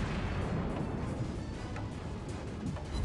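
Battleship secondary guns firing in a naval video game, a dense, continuous roar of booming gunfire and explosions that stays loud and steady throughout, with no speech.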